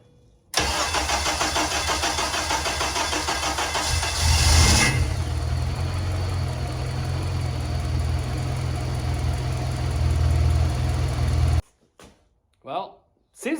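A freshly reassembled K-swapped Mini Cooper engine cranks and catches, then settles into a steady loud idle for several seconds before cutting off, followed by a few brief sounds.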